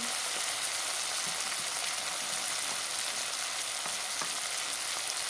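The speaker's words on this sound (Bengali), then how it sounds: "দেখো এখানে টমেটো কাঁচা লঙ্কা পেঁয়াজ সব কিছু একসাথে তেলে দিয়ে দিলাম" Tomato, green chilli and onion go into hot oil together and fry with a loud, even, dense sizzle that holds steady from start to finish, with faint stirring scrapes underneath.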